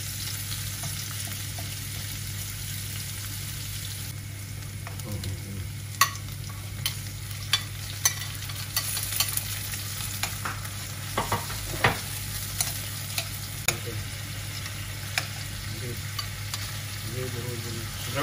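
Garlic sautéing in a hot pan for ginisang mais, a steady loud sizzle with repeated sharp scraping and stirring taps from a utensil, no talk.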